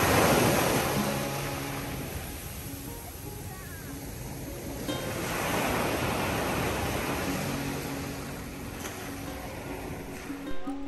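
Ocean waves at Hac Sa Beach in Macau on a windy day: broad, hissing surf swells and recedes in slow surges, with wind buffeting the microphone and a constant faint high tone in the background.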